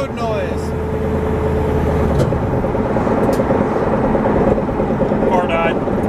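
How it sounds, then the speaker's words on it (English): Steady, loud road and engine drone inside a moving car, a continuous broadband rumble holding throughout with brief higher-pitched squeaks near the start and end. "All the road noise."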